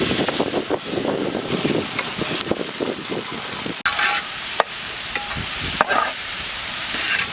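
Onions fry in a pan with cumin seeds and ginger garlic paste, giving a loud steady sizzle with stirring and scraping, then sharp clinks of a utensil against the pan.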